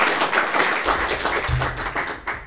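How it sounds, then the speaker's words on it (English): Audience applauding at a mayoral bill-signing event for the Hunters Point Shipyard and Candlestick Point redevelopment, a steady round of clapping from a crowd that carries through the whole stretch at moderate loudness. "the big round of applause to those two for their work."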